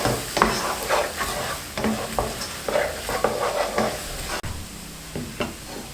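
Beaten egg for fried rice is stirred in a pan over low heat, giving a soft sizzle broken by repeated scraping and tapping of the spatula against the pan in an uneven rhythm.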